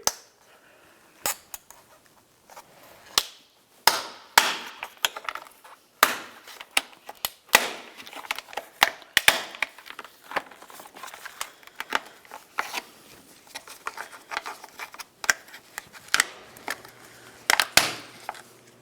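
Plastic push clips are pried out of a Ford Flex A-pillar windshield trim molding, giving a series of sharp, close snaps and pops, irregularly spaced, with faint handling noise between them.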